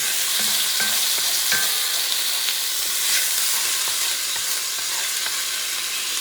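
Tocino and pepper frying in a pan, a dense, steady, hissing sizzle at close range with a few light clicks and stirring taps, no voices.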